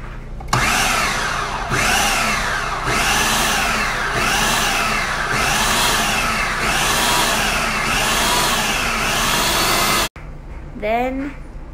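A blender pulsing ingredients into a paste for homemade ramen, about eight loud whirring bursts in a steady rhythm, close by, then a short voice after it stops.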